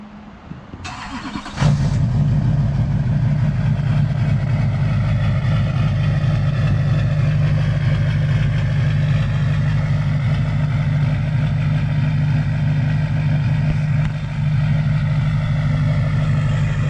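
A Duramax diesel truck engine cranks briefly and then catches, settling into a loud, steady idle with a deep clattering rumble that continues close by, with no voices.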